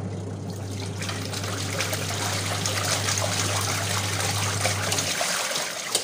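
A Sanken TW 8663 low-water washing machine runs briefly, its motor humming steadily under continuous sloshing and trickling water until it stops near the end.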